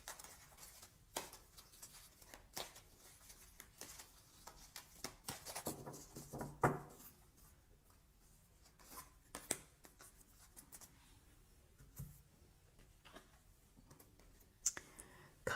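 Oracle cards are shuffled and handled close up, giving soft, faint, irregular clicks, taps and papery rubs spread across the stretch, with no talk over them.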